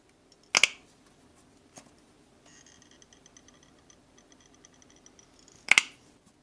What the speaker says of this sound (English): I punched and cut the belt holes in the sides of the back piece.